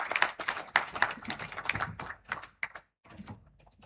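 Applause welcoming a speaker at a Kenyan police SACCO gathering, a loose patter of scattered hand claps, close and uneven, thinning out and fading toward the end.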